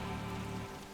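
Steady rain in the video game Yakuza Kiwami, a dense, even hiss of drops on hard surfaces filling the whole second, with a low tonal game drone underneath that fades partway through.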